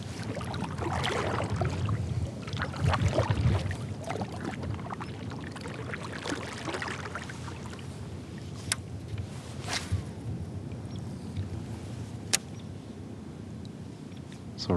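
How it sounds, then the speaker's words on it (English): A paddle working the water of a lake from a small fishing boat, with close splashes and drips, some swishing strokes early on, then quieter dripping and a few sharp knocks. "That means it's time for me to keep paddling."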